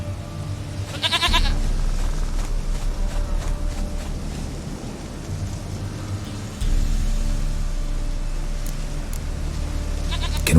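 A goat in The Witcher 3 lets out a sharp bleat early on and a fainter one later, both set against a continuous low ambient game soundscape.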